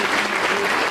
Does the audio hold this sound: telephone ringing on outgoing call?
no